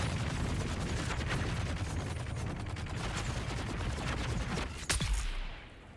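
Heavy gunners in Dune Awakening fire a sustained, dense burst of gunfire, loud and rattling, ending with a sharp crack before fading out.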